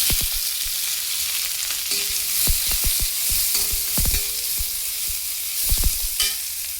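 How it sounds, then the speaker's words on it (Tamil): Onion fries in hot oil with cinnamon, cloves and fennel seeds, giving a constant close sizzle broken by irregular scraping and clicking as a spoon stirs the pan. "இப்போ நம்ம ஆனியனை சேர்த்துடலாம்."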